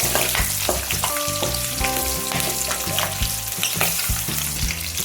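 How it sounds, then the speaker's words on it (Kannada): Green chillies, ginger and onion fry in a pan on medium heat for a drumstick leaf chutney, sizzling steadily and loudly throughout with occasional stirring clatter and faint tonal hum. "ಸ್ವಲ್ಪ ಒಂದು 2 ನಿಮಿಷ ಮೀಡಿಯಮ್ ಉರಿ ಇಟ್ಕೊಂಡು ಫ್ರೈ ಮಾಡ್ಕೊಳ್ಳೋಣ"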